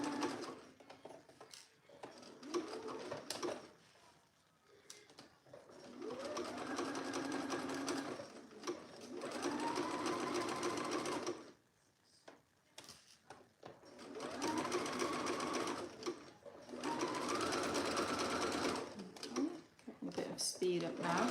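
A sewing machine stitches the seam of an Alice top in several sustained whirring runs separated by short pauses while the fabric is pivoted, close and fairly loud, with someone talking throughout.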